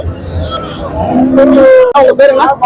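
At the Morepallayam cattle market a Sindhi cow gives a loud, drawn-out moo that breaks into a second call, close by, over murmuring voices and market bustle.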